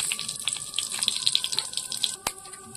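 Oil and dried red chillies hit a hot pan for Bengali masoor dal with amra, giving a close, steady hiss with sharp crackling spits scattered throughout. No voices.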